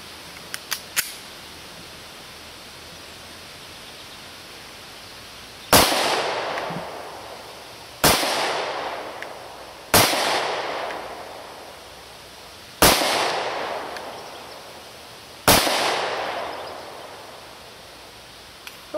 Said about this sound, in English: let's fire a few rounds downrange